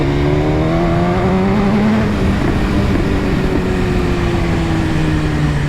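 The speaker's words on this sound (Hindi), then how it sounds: "एक बार फुल थ्रॉटल देने में ही मेरा रेस ट्रैक खत्म हो जाता है।" A Kia Sonet SUV accelerates hard at full throttle, its engine note rising steadily, loud and close, with no talk over it.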